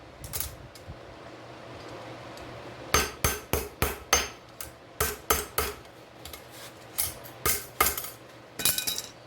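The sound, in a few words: hammering hot metal blade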